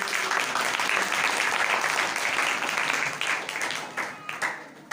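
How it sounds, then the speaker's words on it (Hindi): An audience at a Christian religious gathering claps loudly and steadily for a gift recipient, the applause thinning and fading out toward the end. "जोरदार तालियां बजाएंगे"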